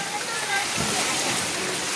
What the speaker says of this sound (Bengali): এরকম বৃষ্টি আমি জীবনে দেখিনি সত্যিকারে।